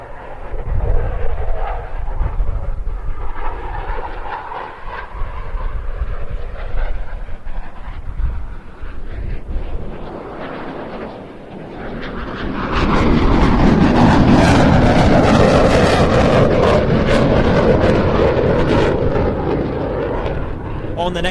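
A military jet at the Bournemouth Air Festival display roars loudly and continuously, its engine noise swelling to a heavier rumble partway through as the aircraft flies past, with a commentator talking over it.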